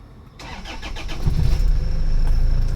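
A car engine, being checked for a fault, cranks briefly after a quiet start, then catches and settles into a steady, fairly loud running rumble.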